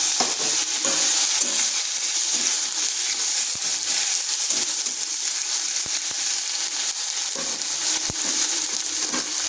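Tomato, bay leaf, cinnamon, cardamom and dried chili fry loudly in hot oil for a potato and pointed gourd curry, a steady dense sizzle with scraping stirs throughout.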